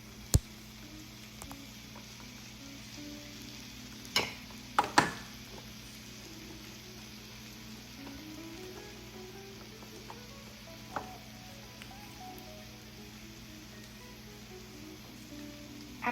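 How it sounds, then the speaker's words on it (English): Browned turkey mixed with barbecue sauce in a pan is stirred, giving a faint, soft sizzle broken by a few sharp utensil clicks and scrapes against the pan. "Now we're going to add in some barbecue sauce. Let's stir that up real good after I get it all added in."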